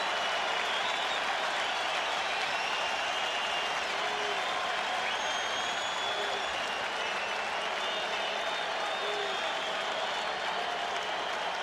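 A large baseball crowd at Fenway Park during the 1986 World Series keeps up a steady, distant roar of cheering and clapping, broad and unbroken for the whole stretch.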